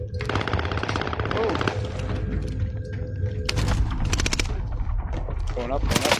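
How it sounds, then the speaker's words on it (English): Rapid gunfire bursts in the Warzone video game, loud and close, crackling over a busy battle soundscape while players talk throughout. "I'm taking fire!"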